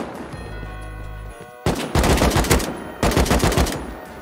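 AK rifle fire in the Rust video game: a short pause, then loud, close bursts of rapid automatic shots in two rattling volleys.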